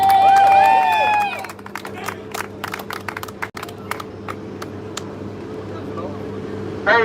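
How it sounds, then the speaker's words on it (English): Scattered, sparse clapping rises from a small outdoor crowd at a veterans' rally outside Atlanta city hall, sounding as separate sharp claps rather than full applause. Voices are heard at the start and again at the very end. "please give a round of applause for the last speaker"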